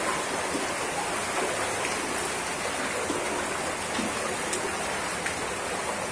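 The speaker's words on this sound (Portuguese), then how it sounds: "E ali embaixo tem a cachoeira, gente." Steady broadband rush of a waterfall below a viewpoint, a continuous hissing roar with no break, moderately distant and even throughout.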